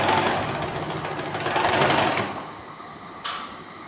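A sewing machine stitches fabric for a uniform skirt with a continuous fast mechanical whir that eases toward the end, followed by a single sharp click.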